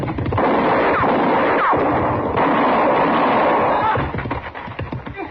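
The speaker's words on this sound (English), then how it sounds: "But he was shooting mighty close." Gunfire rings out in a Western radio drama, loud sharp shots over a dense burst of noise and effects, then fading into quieter background sounds.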